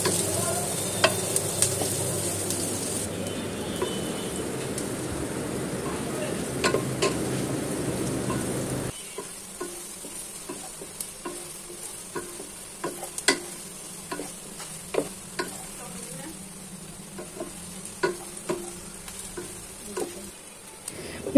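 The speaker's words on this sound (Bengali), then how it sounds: "পেঁয়াজ কুচিগুলোকে ভালোভাবে ভেজে নেব, হালকা ব্রাউন করে ভেজে নেব" Chopped onions fry in mustard oil for beef tehari, sizzling loudly at first, then the hiss drops away and sharp intermittent stirring clacks and scrapes of a spoon in the pan continue.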